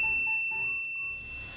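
A single bright notification bell ding rings out at the start and its tone lingers and slowly fades over a low background bed, with no talking.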